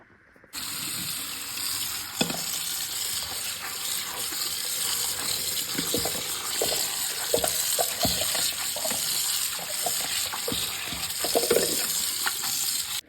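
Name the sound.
washing red amaranth greens under running tap water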